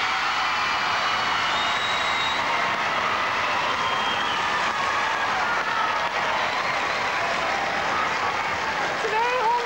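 Studio audience applause for a contestant on a 1989 Dutch TV game show: a dense, loud, continuous clapping wash that lasts throughout without a break.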